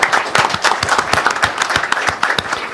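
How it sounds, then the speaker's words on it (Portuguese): A small seminar audience claps close by, with loose, distinct individual handclaps that are loud and uneven, no voices over them. "sim, uma salva de palmas"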